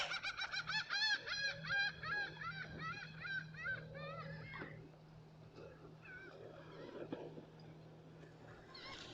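Key West chickens in Mallory Square squawk in a rapid series of loud calls, then settle into softer, scattered clucks over a low steady hum.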